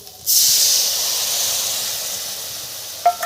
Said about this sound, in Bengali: ম্যাগিটা এবার আমি দিয়ে দেবো কড়াইতে